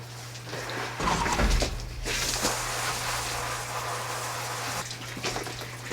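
Plants in a greenhouse on a market farm, with kale being grown, are watered, giving a steady splashing and hissing water flow that starts loud and then continues more evenly, over a constant low mechanical hum, with no speech.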